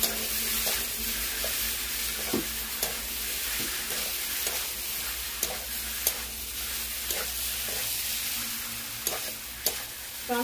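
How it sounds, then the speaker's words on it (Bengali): Prawns with pointed gourd and green banana curry are stirred in a pan: a soft, continuous sizzle with irregular scraping and tapping strokes, fairly quiet and with no voices. "তো আমি নেড়ে নিচ্ছি।"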